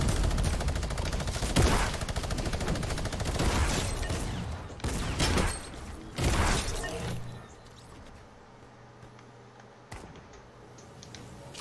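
Gunfire in a video game: rapid bursts of shots crackle loudly through the first seven seconds, then fade to quieter clicks and a low hum with one more sharp shot near the end.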